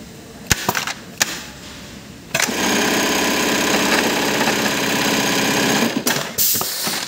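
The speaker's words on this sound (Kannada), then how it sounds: "ಇವಾಗ ಮಿಷಿನ ರನ್ ಮಾಡ್ತೀನಿ ನೋಡಿ. 2000 ಮೇನ್ ಸ್ಪೀಡ್ ಏನಿದೆ ಅದೇ ಕೂಡ ಓಡುತ್ತೆ." A Brother RH-9820 industrial sewing machine starts up after a few clicks and runs steadily at its 2000 main speed setting, a dense, even mechanical whir lasting several seconds before stopping with more clicks.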